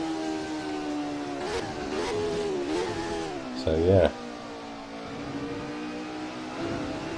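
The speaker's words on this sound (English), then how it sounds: "Sounds like a real Formula 1 car should." A high, whining Formula 1 car engine in the video game Assetto Corsa at Autodromo di Pergusa drones steadily with shifting pitch, briefly surging louder near the end, while someone talks over it.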